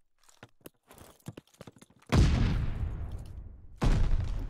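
Gunfire in a first-person shooter match: quiet footsteps and taps, then two loud, booming shots, the second arriving after a short pause, each trailing off with a long decay.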